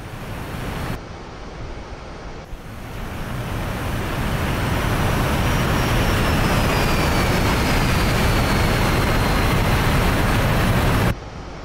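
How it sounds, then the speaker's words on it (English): MiG-15bis jet aircraft engine roaring steadily just after takeoff, a loud broadband rush that builds over the first few seconds and holds constant, with a faint whining tone sweeping across the upper range. "we are airborne."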